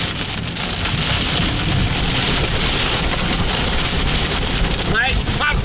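Heavy rain pounds steadily on a moving vehicle during a storm chase with tornadoes and hail in the area, a loud dense wash filling the whole clip without any talk.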